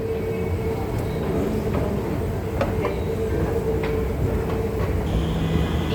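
Two Singapore MRT trains passing near Simei station, a steady rumbling rail roar with faint wheel and track clicks, fairly loud and continuous with no talking.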